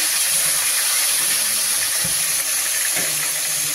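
Fish slides into hot oil in a kadai, setting off a loud, continuous close hiss and sizzle that holds steady for a few seconds.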